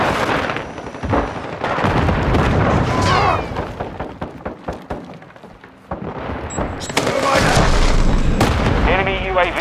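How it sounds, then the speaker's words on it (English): Flash grenade blasts in the Call of Duty Modern Warfare 2 beta: loud, close booms and bursts of combat noise repeat across the stretch, with shouted voices mixed in. "Flash grenade!"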